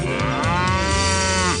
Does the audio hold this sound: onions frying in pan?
no